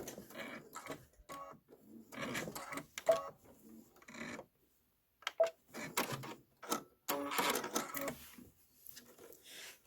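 A sewing machine stitches through a quilted pillow in short quiet bursts of rapid mechanical clatter, pausing briefly between runs, with no talking.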